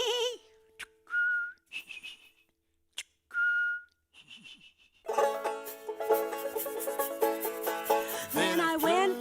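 A person whistles an imitation of a towhee's call in a few short sustained notes with gaps between them, close and clear, and then a full band of instruments starts playing.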